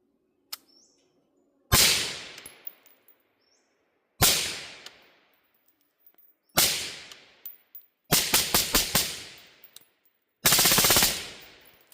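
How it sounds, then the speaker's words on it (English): Rifle shots fired through a Viking Forge El Mudo Ti 556 suppressor: five loud cracks spaced a couple of seconds apart, each with a decaying tail, the fourth a rapid string of several quick shots. "the best example I can offer for using the suppressor in a confined and enclosed space, such as in your vehicle"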